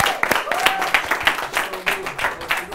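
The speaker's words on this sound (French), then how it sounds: "on peut les applaudir" Audience applause for a group of young performers in an acting masterclass, a scattered burst of clapping with crisp individual claps, mixed with a voice talking over it.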